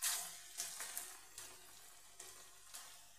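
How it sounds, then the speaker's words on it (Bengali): Small palta leaf pakoras (piyaji) frying in hot oil give a faint, continuous sizzle with a few soft crackling bursts, close by and without talk. "এবার আমি ছোট ছোট করে এইভাবে পেঁয়াজিগুলো ভেজে নেব"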